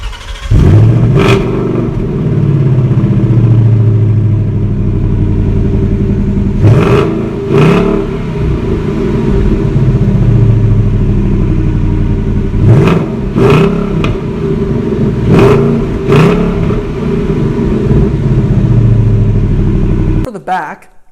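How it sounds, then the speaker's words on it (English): A 2021 Ford Mustang GT with the GT Performance Pack revs its exhaust: a deep, loud idle rumble broken by about seven sharp throttle blips, ending abruptly. "So let's take a look at this exhaust."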